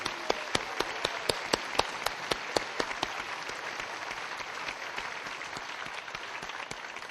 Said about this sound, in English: Let's have a nice round of applause for Saddleback's new faculty.